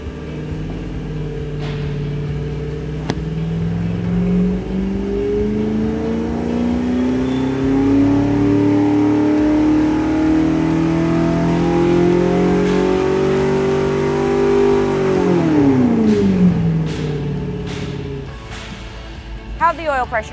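A BluePrint 350 crate engine on a dyno makes a test pull, its note climbing steadily for about fifteen seconds at high load, then dropping sharply as the throttle closes. Loud and close, with brief voices near the end.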